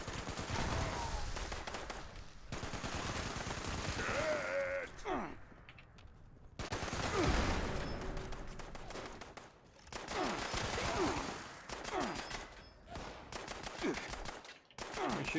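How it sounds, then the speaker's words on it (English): Enemy gunfire in the video game Fallout 76, repeated bursts of rapid shots coming in waves with brief gaps, loud and dense, mixed with occasional grunts. "They're shooting me from somewhere."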